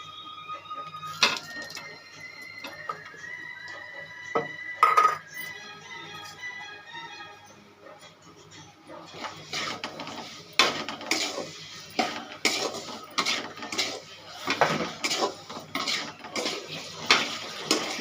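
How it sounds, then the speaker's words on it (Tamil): Rava and jaggery stirred in a pan with a metal spoon, a run of clinks and scrapes against the pan, sparse at first then busier and more rhythmic. "நல்லா மிக்ஸ் பண்ணிக்கலாம்."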